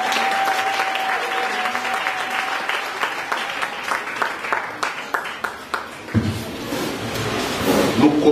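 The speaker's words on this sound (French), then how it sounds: "On peut acclamer le groupe musical." A church congregation applauds its music group at an Easter Sunday service, sustained, dense clapping filling the room for several seconds, with a shift in texture toward the end as the applause continues.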